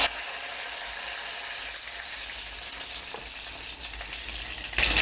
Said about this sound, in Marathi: मोहरी तडतडली की जिरं घालायचं आहे